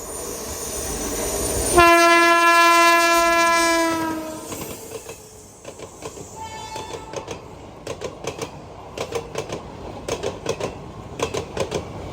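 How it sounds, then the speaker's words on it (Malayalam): The Parashuram Express arrives at Idappalli railway station in Kochi, opening with a loud, sustained horn blast, then rolling past with rhythmic clickety-clack of wheels over rail joints as the carriages pass close by. "പരശുറാം എക്സ്പ്രസ് വരുന്നുണ്ട്"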